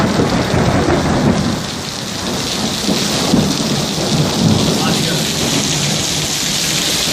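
Steady heavy rain pours throughout with low rumbles of thunder rolling underneath, a dense, continuous storm wash with no pauses.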